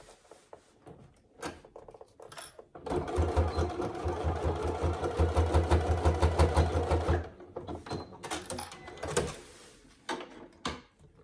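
A sewing machine bastes a strap tab in place on a wash bag, its motor and needle whirring in a steady close run for about four seconds, framed by scattered clicks and handling knocks.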